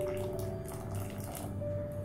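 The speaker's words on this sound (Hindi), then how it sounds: "हम धीरे धीरे करके जो नींबू और पानी का मिक्सचर बनाए हैं वो डालेंगे" A lemon juice and water mixture trickles slowly into hot milk off the heat while making malai paneer, a soft steady watery pour heard close and alone.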